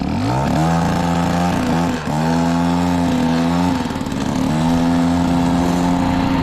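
An engine fitted with a modified air box runs steadily after a restart, a loud, close, continuous idle with small pitch shifts and brief dips.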